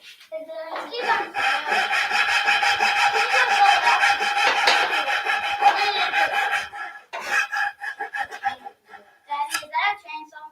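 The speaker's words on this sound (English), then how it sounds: "it's a Japanese pole saw" Rhythmic rasping strokes of a Japanese pole saw cutting through wood, close and steady, then a few shorter scraping strokes toward the end.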